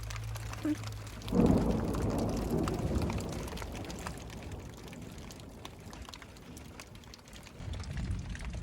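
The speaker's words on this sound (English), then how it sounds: "Lots of raindrops." Steady soft patter of rain fills the scene at an SUV car-camping spot, a dense wash of drops falling nearby, with a brief louder rustle early on and no one speaking.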